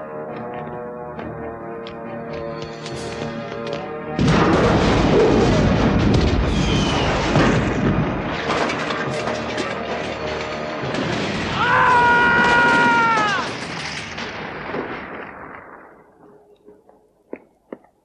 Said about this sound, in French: Cet endroit va exploser dans 1 minute!